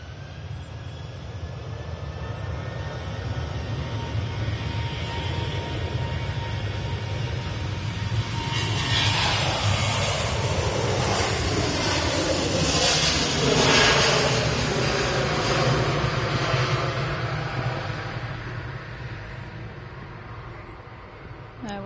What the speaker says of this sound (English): A couple aircraft on at finals now.